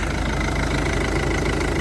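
A used car's warmed-up engine idles steadily right after starting, a close, loud, even mechanical drone with smooth, unwavering revs and no other sounds.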